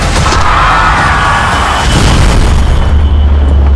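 A bomb blast from a drama trailer erupts as a loud, sustained roaring boom with deep rumble and crackling debris. The explosion fills the whole stretch without a pause.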